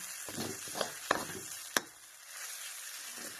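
Sabudana khichdi being sautéed in a pan, quiet scraping stir strokes with a couple of sharp clinks of the spoon against the pan and a faint sizzle, no talking.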